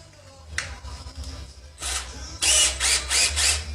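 DeWalt 20-volt cordless screw gun spinning a sawed-off motor shaft chucked in it, giving short bursts of whirring that grow longer and louder, several pulses in a row, with no talk.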